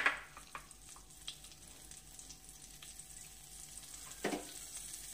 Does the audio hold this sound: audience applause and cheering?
no